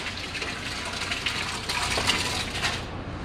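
Cut fruit and water being poured into a beer mash during home brewing, a steady splashing gush of liquid throughout, close and moderately loud with no talking.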